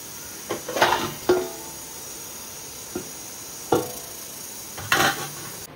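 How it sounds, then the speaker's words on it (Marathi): Prawns cooking in a pan for a prawn biryani, with a utensil knocking and scraping against the pan in several short, separate clatters and a faint hiss underneath. No voices. "आणि इकडे कोळंबी शिजवते"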